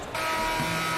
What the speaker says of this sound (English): the last shot at the buzzer doesn't go in for him